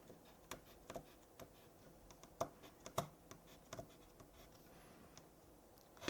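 Pencil drawing lines on paper while drafting a stair section, soft scratchy strokes and scattered light taps at irregular intervals, quiet and close with no talk.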